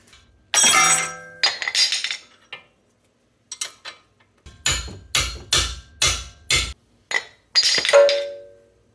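Sharp metallic clanks ring out from a hammer hitting metal on a Chevy Bolt EV wheel hub, first a few irregular blows, then a rapid run of evenly spaced strikes, close and loud.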